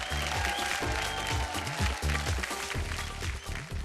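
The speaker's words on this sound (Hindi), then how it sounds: "जोरदार तालियां।" A TV game show studio audience, Big Memsaab Season 7, bursts into loud, dense clapping that holds steady throughout, with a few strong music-like tones ringing underneath.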